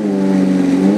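A Ferrari F430 Spider fitted with a Capristo exhaust revs in a short, loud, steady engine blare with a rich harmonic growl, heard alone and close.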